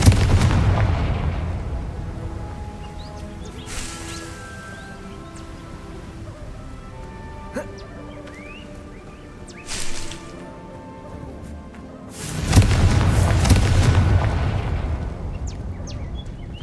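Confringo fire spell blasts in the Hogwarts Legacy video game: a loud booming burst opens, smaller pops and thuds follow, then another heavy explosion rolls in near the end over steady game ambience.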